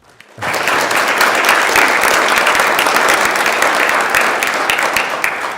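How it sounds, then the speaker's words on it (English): A round of applause in a state Senate chamber begins abruptly and holds as steady, dense clapping from many hands, loud and close, tapering slightly at the end. "if you could please give him a big round of applause"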